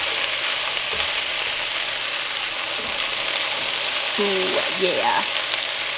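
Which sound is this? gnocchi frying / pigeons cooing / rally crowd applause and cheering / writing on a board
gnocchi frying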